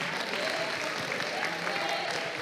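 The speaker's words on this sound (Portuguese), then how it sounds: "Esse aplauso podia ser melhor" A church congregation applauding, a dense continuous patter of many hands at moderate loudness, steady throughout with no speech over it.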